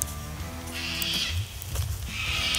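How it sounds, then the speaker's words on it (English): Birds call noisily in an Australian jungle, with harsh, overlapping cries and squawks over a steady outdoor background. "The birds are very noisy."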